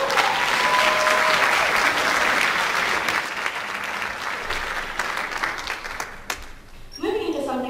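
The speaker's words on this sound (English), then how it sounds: "Go ahead, give him another round of applause." A school orchestra winter concert audience applauds steadily in a large hall, sustained clapping that fades toward the end as a voice begins speaking.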